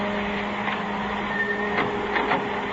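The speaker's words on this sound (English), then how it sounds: "Kill that dryer, will you?" A photo print dryer runs in a darkroom with a constant mechanical hum and whir, steady tones and a few faint clicks throughout, fairly loud and alone.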